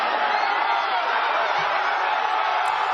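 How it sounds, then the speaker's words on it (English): Students crowding a campus during a riot cheer and shout in a loud, dense, continuous roar, with scattered whoops rising above the massed voices. "people starting to cheer"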